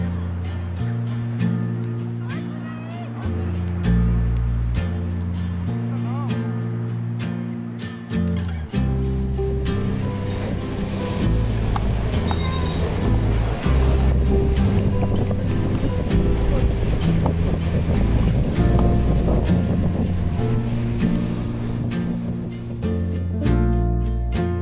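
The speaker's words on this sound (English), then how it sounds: "here it was a little bit windy and waves." Windy ocean waves wash in steadily at Playa Chacmol beach in Cancún, a constant roar of surf mixed with buffeting wind noise on the microphone, loud and continuous throughout.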